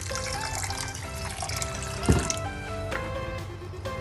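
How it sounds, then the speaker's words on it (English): Cold water is poured slowly over paneer wrapped in muslin cloth, giving a continuous splashing trickle with a sharper splash partway through, over a steady tonal background. "Now I have to slowly pour the cold water over the paneer."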